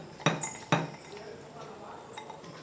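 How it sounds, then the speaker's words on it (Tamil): Peeled almonds go into a mixer jar with two sharp, close clinks in quick succession, followed by a quieter stretch of faint rattles and kitchen background. "இந்த பாதாமை ஒரு மிக்சி ஜாரில் சேர்த்துக்கிறேன்."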